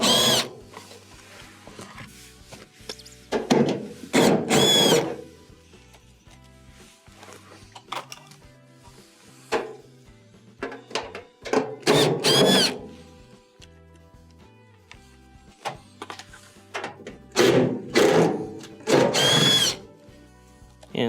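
A power drill backs out four 1/4-inch screws beneath a Maytag dryer in several short whirring bursts separated by quiet pauses, close and fairly loud.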